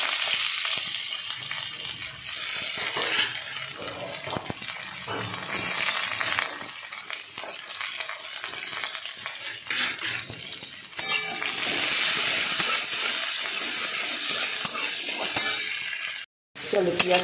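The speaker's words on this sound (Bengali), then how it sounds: "চলো পেঁয়াজটা ভাজা হচ্ছে" Onion frying in a pan with potatoes for ghugni makes a continuous sizzle, with occasional utensil clinks and stirring and some voices in the background, cut by a brief dropout near the end.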